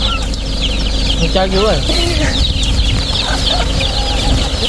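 Chickens cluck repeatedly close by at a roadside watermelon stall, short bursts over a steady background hum while people talk in Thai.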